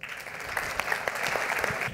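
An audience applauds at the close of a medical debate on coronary CTA in the emergency department, steady clapping from a room full of people at moderate distance, lasting the full two seconds.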